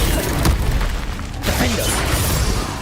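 Game spell explosions from the Confringo blasting curse in Hogwarts Legacy boom loudly in a dense, close burst, then a second blast follows about a second later amid continuous battle noise.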